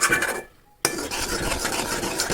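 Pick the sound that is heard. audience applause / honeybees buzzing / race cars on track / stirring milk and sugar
stirring milk and sugar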